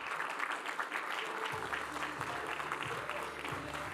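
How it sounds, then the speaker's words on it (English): Conference audience applause at a customer-experience and user-experience event, a steady wash of many hands clapping at moderate level throughout, with a low hum of music entering partway through. "Give them a round of applause, everybody"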